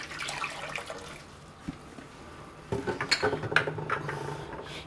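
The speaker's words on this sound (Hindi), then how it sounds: "ये 2 किलो पानी में डाल रही हूँ पैन में।" Water being poured into a pan in a home kitchen to make yakhni broth, a soft splashing trickle with a brief clunk, then louder sloshing and gurgling bursts toward the end, with no talking.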